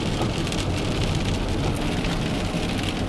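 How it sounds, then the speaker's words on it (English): Steady heavy rain falls outdoors on a cold morning, a dense, even hiss of drops hitting surfaces with no pauses and no voices. "It's raining, it's cold."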